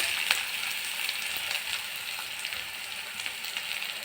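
Onions, cumin and curry leaves sauté in a pan, giving a continuous even sizzle with faint stirring ticks, close up and with no voices.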